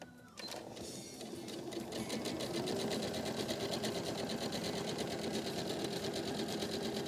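A sewing machine runs steadily while stitching a small child's angel-shaped pillow, a continuous fast mechanical whir and rattle that starts within the first half-second and holds close and loud throughout, with no talk.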